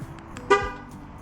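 Remote starter activated on a 2024 RAM 1500: a single short, bright horn chirp sounds once, with faint background noise around it and no clear engine start following.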